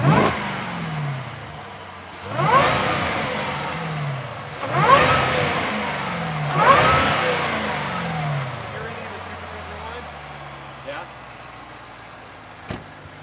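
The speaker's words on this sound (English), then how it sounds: "I'm gonna rev it now with the hood open." A 2021 Jaguar F-Pace SVR with its hood open is revved in dynamic mode. Four loud, sharp engine revs rise and fall about two seconds apart, then it settles to a low idle.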